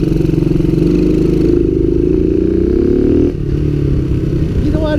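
A Coolster Mountop 125 ATV engine drones loud and close while riding, a steady rattling mid-pitched hum that rises in pitch then drops as the rider slows, with clattering from the machine.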